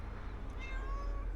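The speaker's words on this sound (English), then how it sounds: "we've got a little cat to come and greet us." A small cat greets visitors at a townhouse with a faint, drawn-out meow over steady outdoor background noise.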